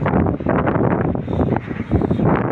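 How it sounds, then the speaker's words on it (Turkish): Wind gusts roar steadily across an exposed hilltop construction site at a TOKİ housing development, a continuous broadband rush that swells and dips slightly without pause. "biraz sanki rüzgar dindi diyeceğim de dinmedi ya"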